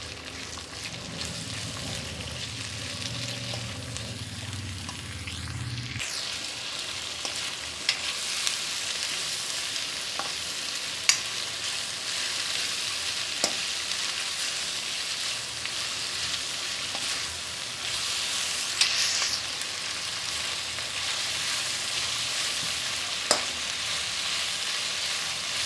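Sliced bell peppers fry in hot oil in a pan, giving a continuous close sizzle with occasional scrapes and clicks of stirring. A louder, denser frying burst opens the sound before it settles.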